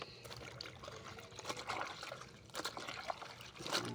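Water trickles and runs steadily, a faint continuous splashing stream like a tap filling a tub, with occasional louder spatters.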